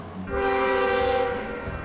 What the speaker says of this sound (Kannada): ಇಪ್ಪತ್ತಾರು ಟೇಬಲ್ಗಳಿಗೆ ಊಟವನ್ನು ತಲುಪಿಸಲು ನಾಲ್ಕು ಜಿ ಸ್ಕೇಲ್ ರೈಲುಗಳನ್ನು ಬಳಸಲಾಗುತ್ತಿದೆ